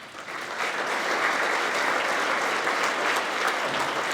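A town gathering breaks into applause, dense clapping that swells quickly and holds steady for about four seconds.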